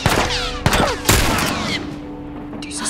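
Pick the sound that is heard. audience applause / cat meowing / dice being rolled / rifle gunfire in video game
rifle gunfire in video game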